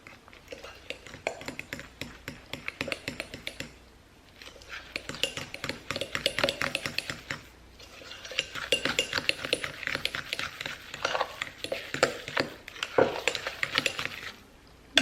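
A spoon or spatula scrapes and clinks steadily in a bowl while keto chocolate chip cookie dough is mixed, a close rhythmic clatter with brief pauses.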